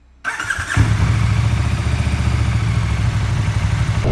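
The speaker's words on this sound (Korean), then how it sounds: "처음에 키 온을 하고 시동을 딱 걸었을 때 사운드가 굉장히 웅장하더라고요" A liter-class motorcycle engine starts after a brief silence, catching with a short clatter and settling into a steady, deep, rumbling idle up close.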